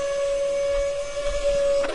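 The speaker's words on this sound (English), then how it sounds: "so we unlock the door and open it." A door unlocking and opening in the Subnet video game: a steady electronic hum with a mechanical whir running under it, closing with a brief clunk at the end.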